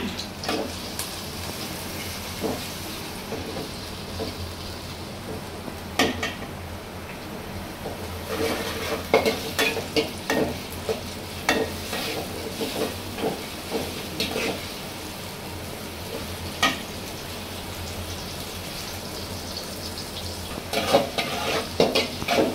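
Chopped ginger fries with chopped onion in a pan over a lowered flame. A soft, continuous sizzle runs throughout, with intermittent sharp scrapes and clatters of stirring against the pan.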